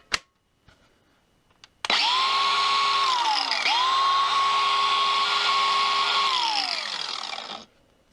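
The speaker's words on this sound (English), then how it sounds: "this DeWalt grinder, it's brushed, not the brushless, and it's very angry on batteries" A brushed DeWalt angle grinder runs on battery power, spinning up with a loud steady whine, dipping briefly partway through, then holding before winding down to silence; a few small clicks come just before it starts.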